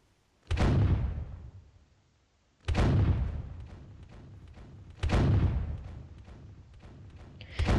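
Cannon fire from a pirate ship in a video game booms three times at roughly two-and-a-half-second intervals, each heavy thump trailing into a rumbling decay, no speech.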